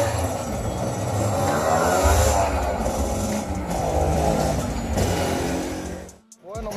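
A Suzuki AX100 motorcycle fitted with a racing fourth-gear sprocket, its engine running loud and close, revving up and down in several swells before cutting off abruptly near the end, then catching again.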